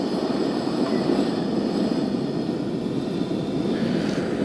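A Coleman 1900 Collection 3-in-1 stove burner roars close up in a steady, loud, unbroken rush of broadband noise, with no voices over it.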